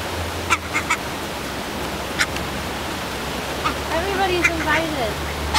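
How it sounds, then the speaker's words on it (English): Ducks at the Woodland Park Zoo quack in short, scattered calls while being fed, set against steady outdoor background noise, with people talking nearby now and then. "Come here, Duckies."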